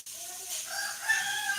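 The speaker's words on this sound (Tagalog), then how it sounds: "Tumitilaok." A rooster crows in a rural province setting, a single drawn-out call that rises and holds in the middle distance, with no talk over it.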